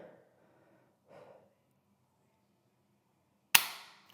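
A scoped carbine's trigger is pressed dry, giving one sharp, close metallic snap after a few seconds of near silence and soft breathing.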